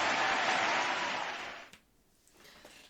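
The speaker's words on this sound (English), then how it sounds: "The applause." A short burst of crowd applause and cheering from a Twitch stream alert sound effect, loud and full, fading out after about a second and a half.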